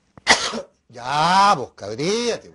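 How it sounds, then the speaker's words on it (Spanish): One sharp cough from a man on a Chilean football talk show, quickly followed by his speech. "¿Te sabes tú por qué me viene la tos?"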